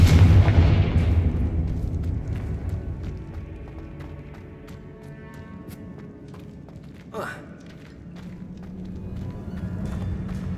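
Confringo fire spell blasting bones in Hogwarts Legacy: a heavy booming burst at the start that fades into a long rumbling decay, with a quieter whooshing sweep partway through.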